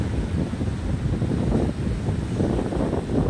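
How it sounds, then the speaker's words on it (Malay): Strong sea wind blows steadily at a Malaysian beach, a dense, unbroken roar buffeting the microphone, with a hint of surf underneath and no voices. "Santai sini, angin laut yang kuat."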